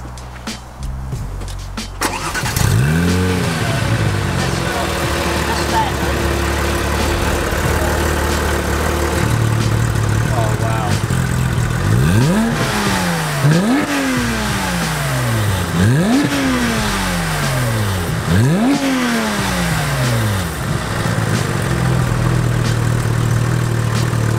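An engine starts, then settles into a loud idle broken by several sharp revs that rise and fall in quick succession, close by.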